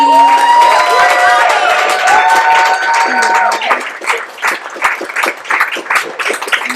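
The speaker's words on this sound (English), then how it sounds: "Let's clap it up for Robbie" Sustained tonal music or singing fades out, then an audience breaks into applause and cheering, loud, crowded clapping mixed with whoops continuing to the end.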